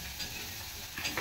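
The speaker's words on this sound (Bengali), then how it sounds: "পেঁয়াজ ভাজছে" Onions frying in a home kitchen pan, a steady soft sizzle with occasional louder stirring scrapes near the end, no voices over it.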